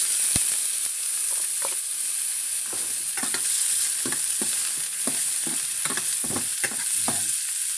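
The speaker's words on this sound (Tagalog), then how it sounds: "Para may prito ko lang, may gisa ko lang tong sibuyas at saka bawang." Steady oil sizzle with repeated scraping and stirring clicks as onions and garlic sauté in a pan, close up, no voices.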